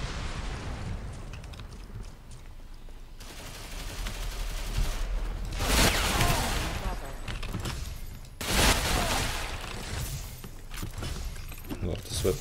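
AK-200 rifle fire in a shooter game, two loud sustained bursts separated by quieter stretches of battlefield noise and rumble.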